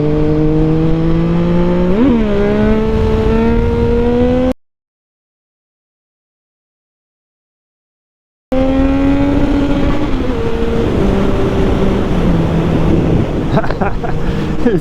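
Yamaha MT09 motorcycle engine screaming at high revs with wind roar, pitch jumping sharply as the rear wheel spins up during a wheelie, loud and close, broken by a stretch of silence before the engine note and wind return.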